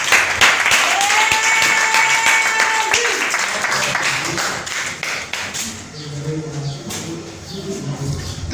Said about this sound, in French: Est-ce que tu vas acclamer Jésus?